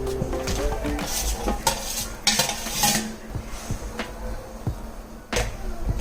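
Vegetables and pineapple stirred into a boiling sweet and sour sauce thickened with cornstarch slurry, a utensil scraping and clinking against the pan in repeated strokes over a steady bubbling sizzle, close and fairly loud, with no talking.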